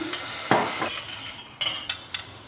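Pepper paste and tomato sauce frying in oil, a bright crackling sizzle broken by several quick stirring scrapes and spoon taps against the pan.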